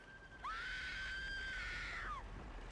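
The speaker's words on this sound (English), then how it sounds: "Scream, man! Scream for your life!" A man in the King Kong video game lets out a single long, loud scream that rises sharply, holds for almost two seconds, then falls away over quiet background ambience.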